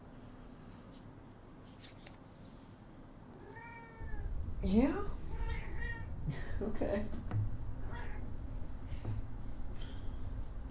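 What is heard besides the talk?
pet cat meowing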